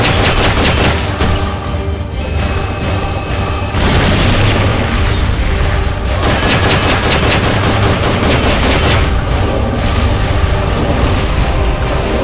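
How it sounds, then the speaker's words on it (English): S-mines launch and explode in Metal Gear Solid Peace Walker, heavy booms and rattling blasts filling the clip with dense, loud noise and rolling detonations, including one break near the middle where a fresh barrage begins. "Launching S-mines."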